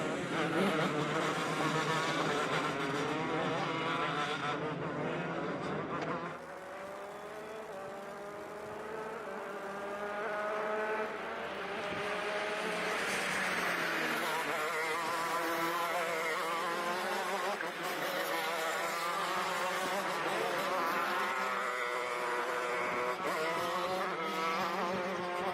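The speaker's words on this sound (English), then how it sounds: "Four mini shifters coming out to play. It'll be an 8-lap heat race." Several mini shifter karts race together during an 8-lap heat at a kart track, their high-pitched two-stroke engines whining steadily and continuously, rising and falling as they pass, with no talk over them.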